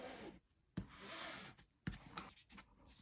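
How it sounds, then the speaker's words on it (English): A small squeegee pressing paper down on a junk journal page makes soft, close rubbing and scraping strokes in short bursts, separated by brief pauses and a couple of light taps. "little squeegee like this and just kind of press it down."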